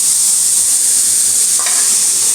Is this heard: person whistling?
no